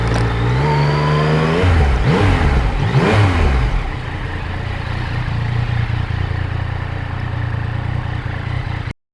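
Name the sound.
Yamaha MT-09 motorcycle engine revving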